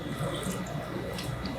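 Rye whiskey pours from a bottle for a cocktail, a steady, soft liquid trickle heard up close with no talk over it.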